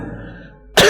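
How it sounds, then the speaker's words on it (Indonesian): A preacher with a lingering cough gives a single sharp, loud close cough after a short stretch of quiet room tone. "Saya saja masih batuk-batuk ini"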